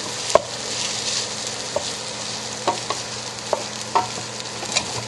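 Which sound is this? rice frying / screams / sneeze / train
rice frying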